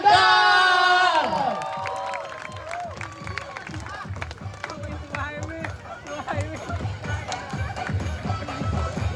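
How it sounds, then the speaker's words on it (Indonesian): A crowd at a political event in Depok, Indonesia, for Muhaimin Iskandar cheers and claps in a loud burst at the start. The applause and cheering then settle into a busy, continuous crowd murmur mixed with scattered claps and voices. "Tepuk tangan dulu dong semuanya."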